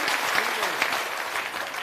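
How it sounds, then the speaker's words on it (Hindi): Dense, steady applause from an outdoor audience at a village political rally in Pariharpur, Bihar, clapping continuously at close range with no break. "अब ताली बजाने का बारी है"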